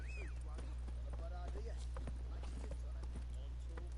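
The horse Roach gallops in a video game with rapid, rhythmic clip-clop hoofbeats, close and continuous, under chatter and short game voice calls.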